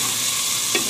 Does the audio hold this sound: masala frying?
yes